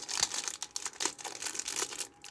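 Plastic packaging of chibi Yu-Gi-Oh cards from a 5D's deck box is opened up close, with faint crinkling, tearing and rustling in irregular bursts and no talking.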